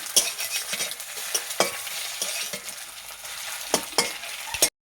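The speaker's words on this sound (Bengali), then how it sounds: "এইভাবে এটা ভেজে নিচ্ছি।" Egg and kalla fry in hot oil while a utensil stirs and scrapes the pan, giving a steady close sizzle broken by regular sharp metallic scrapes.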